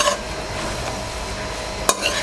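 Tawa pulao being stirred in a pan with butter, soft scraping and a gentle sizzle under steady background hiss, with one sharp clink of the spoon against the pan near the end.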